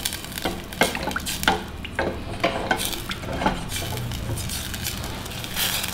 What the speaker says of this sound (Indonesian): Margarinnya kita lelehkan dulu.